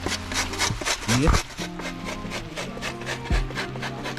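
Fresh coconut is rubbed against a grater in a kitchen, making a steady, rhythmic rasping scrape, while a person talks nearby.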